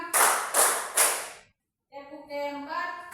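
Children in a classroom clap hands in a counted rhythm: three crisp, evenly spaced claps, a short pause, then a voice speaking.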